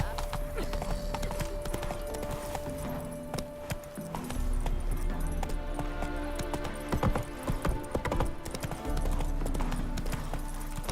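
Roach, a horse in The Witcher 3, gallops with steady, rapid clip-clop hoofbeats and occasional snorts, close and prominent over a busy game soundscape of music and ambient noise.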